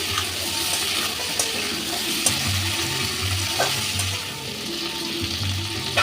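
Eggplant and bottle gourd stems fry in hot oil in a pan with a loud, continuous close sizzle and faint stirring scrapes throughout.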